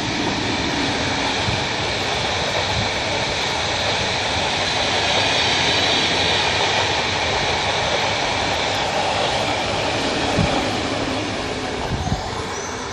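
A Stadler Flirt 3 train of PKP Intercity rolls slowly past outdoors, a steady loud rumble with wheel and rail noise and a few faint clacks, close by and continuous.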